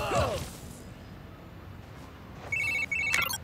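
A telephone rings in the video game Spider-Man Miles Morales. A quiet electronic ring sounds in two short bursts near the end, over soft game ambience and a brief swooping effect at the start.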